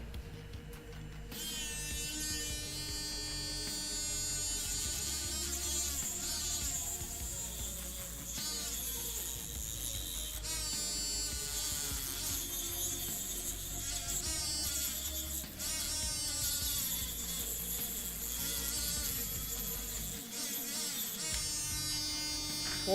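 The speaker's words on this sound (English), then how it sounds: "I'll be done with the Dremel here for now" A Dremel rotary tool grinds continuously, a high buzzing whine that shifts pitch as the load changes, with short dips, heard up close and fairly quiet.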